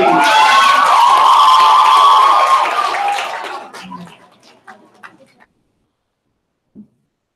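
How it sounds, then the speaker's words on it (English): At a poetry slam, an audience cheers and whoops loudly for performers for about three seconds, then the noise dies down to a few scattered shouts and claps before near silence. "give a round of applause for Claire, Siona, and Servi."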